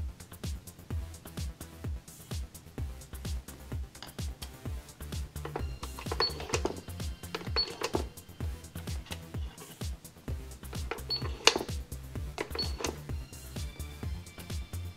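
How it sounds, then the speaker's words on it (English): A toy cash register clicks and beeps through a series of quiet button presses and short electronic chirps, with soft handling noises between them. "This cash register also takes credit cards."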